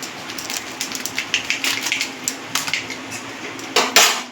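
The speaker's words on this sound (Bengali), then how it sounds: "এবার দিয়ে দেবো আলু বটবটিগুলো ভেজে নেবো নুন দিয়ে।" Potatoes and yardlong beans fry in oil with black cumin seeds and salt in a pan. A utensil clinks and scrapes against the metal in quick, uneven strokes over a steady background sizzle, ending in a louder clatter.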